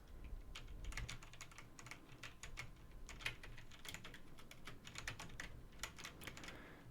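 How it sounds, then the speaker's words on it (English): Rapid, intense typing on a computer keyboard, with dense, irregular clicks and clacks running steadily for about seven seconds at close range and no voices. "I will now test the keyboard sound."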